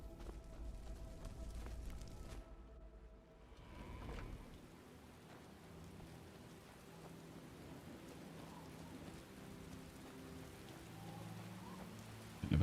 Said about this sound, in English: Oh good, it's raining here too.